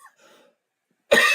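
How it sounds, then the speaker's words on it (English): A single short, harsh cough, loud and close, after a moment of quiet breathing. "Sorry about that cough."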